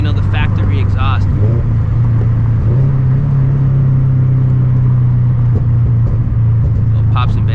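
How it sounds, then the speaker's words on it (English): A Scion FR-S sports car with a pops-and-bangs exhaust tune revs hard, its loud engine drone steady and rising, with brief crackles near the start and end and talking over the top. "Little pops and bangs."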